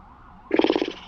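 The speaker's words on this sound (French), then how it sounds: "Pourquoi il y a des ambulances partout ici?" A brief, loud, pulsing wail from an ambulance siren on a New York street bursts in suddenly and warbles for about half a second before cutting off.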